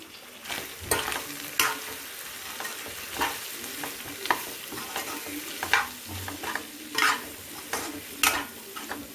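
Mutton sizzles in a pan with chili powder added, a continuous crackling fry broken by repeated scrapes and clatters of a spoon stirring against the metal, close and fairly loud.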